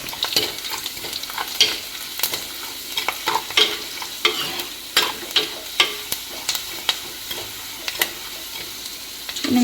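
Ginger and garlic frying in a pan with steady sizzling, broken by repeated sharp scraping and stirring strokes from a spatula, close and clear with no voices.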